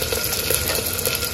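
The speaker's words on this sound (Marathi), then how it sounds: "आता छान आता कांदा टाकून घेते" Onion fries in a pan with whole spices for pulao, giving a short, steady, dense sizzle and hiss.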